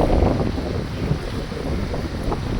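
Strong wind at a sandy lakeside beach on Lake Pisochne, Shatsk, buffets the microphone in continuous low rumbling gusts, loud and close, with a faint wash of water in the background.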